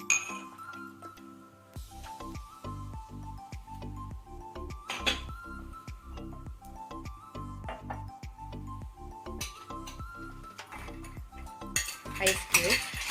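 Fresh mint is pressed and crushed in a glass for a virgin mojito, giving steady rhythmic clinks and knocks of a utensil against glass, with a brighter rattle of clinking near the end and no talking.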